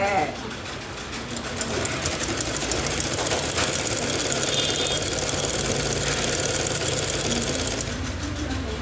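A sewing machine runs in a steady, loud mechanical whir while stitching a frill onto a puff sleeve, its close, continuous motor drone holding almost unbroken for the whole stretch.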